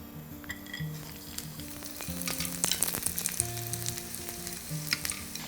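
Garlic sizzles and crackles steadily in hot oil, a busy frying hiss that runs throughout, with faint clinks and stirring noises and some light background tones.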